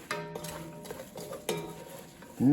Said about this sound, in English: Now we're gonna toss everything up, get all that butter and oil and seasoning all mixed in with those veggies